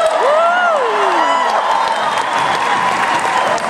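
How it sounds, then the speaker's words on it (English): Comic-Con panel audience at a Burn Notice session cheering and applauding loudly and steadily throughout, with whoops rising above the dense crowd noise. "There's a lot of cheering."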